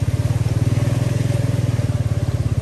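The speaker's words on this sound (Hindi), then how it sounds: "ये देखो आराम से आई है बाइक," A motorbike rides through a mountain water crossing on the Manali to Baralacha La pass route, its engine giving a steady, loud, rapidly pulsing thump close by throughout, with no talk.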